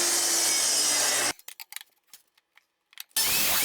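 Scrap wood being sawn on a miter saw set to 17 degrees: a loud, steady rasping cut for over a second, then a quiet stretch of light clicks and taps, then a second loud burst of cutting.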